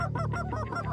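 Canada geese honk loudly and close together in a quick, overlapping burst of nasal calls, several birds sounding at once for about a second.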